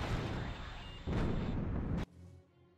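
Heavy weapons fire in the space strategy game Nexus: The Jupiter Incident comes as two loud, sustained booming blasts with sharp onsets, then cuts off to a faint low rumble.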